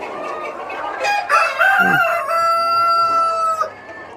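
A rooster crows loudly and close over clucking chickens at a poultry farm, the long drawn-out crow rising and holding for a couple of seconds before trailing off, with no voices.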